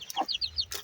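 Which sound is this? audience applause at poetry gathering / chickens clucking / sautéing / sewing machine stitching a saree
chickens clucking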